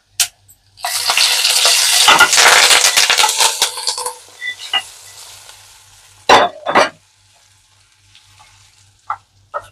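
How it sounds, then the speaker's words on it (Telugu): Hot tempering hits a tomato ukkera dish with a sudden loud sizzle that crackles for a few seconds and fades, followed by a few sharp utensil clanks and stirring sounds. "ఈ పోపు ఇందులో వేసేయాలి."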